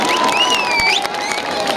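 Audience crowd noise with cheering and applause at a football tournament ceremony, a steady wash of voices and whistling-like tones, fairly loud and continuous throughout.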